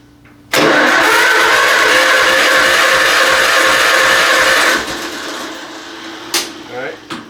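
An engine on its first start cranks loudly and continuously for about four seconds, then falls quieter with a few brief sputtering bursts as it catches momentarily.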